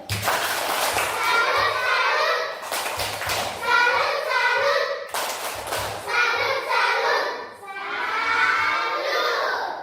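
Third-grade primary school pupils in a classroom shout a rhythmic 'tepuk salut' clapping chant in bursts, their loud, energetic young voices broken by short pauses between phrases.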